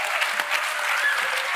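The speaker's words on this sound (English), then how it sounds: "I would like you guys to give a real warm applause to these panelists today" Warm applause from a conference audience for the panelists at a summit, continuous dense clapping filling the room at a steady level, crisp and fairly close.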